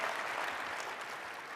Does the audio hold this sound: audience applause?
yes